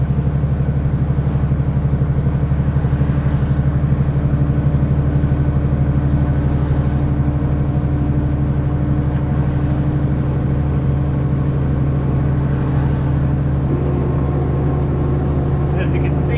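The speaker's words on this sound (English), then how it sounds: "By the flood of traffic passing me" Road traffic and engine drone while driving, a steady loud rumble of the car and passing vehicles filling the whole stretch, with low continuous hum and no clear gaps.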